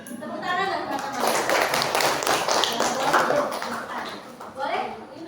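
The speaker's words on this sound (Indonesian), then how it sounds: "tepuk tangan nggak teman-teman?" Classmates clap their hands together in a sustained round of applause in a classroom, a dense, steady patter of many hands with voices mixed in.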